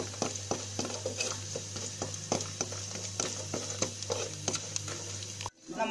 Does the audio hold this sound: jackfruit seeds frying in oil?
yes